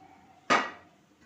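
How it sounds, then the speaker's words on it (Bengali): A frying pan is set down on a stove: one sharp metallic knock, close and moderately loud, that rings briefly and then fades. "এতে একটা ফ্রাই প্যান বসিয়ে দিলাম।"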